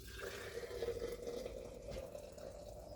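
Potato cooking water is poured from a pot into a jar, making a steady liquid pour and fill that runs continuously for a few seconds at close range.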